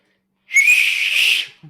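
A person imitates a loud calling whistle, giving one shrill, sustained, slightly wavering blast of about a second, close and alone, followed by a faint sound right after.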